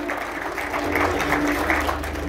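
Moderate clapping from spectators at an endurance horse riding award ceremony runs continuously for a couple of seconds under a steady hum, as riders and horses are announced.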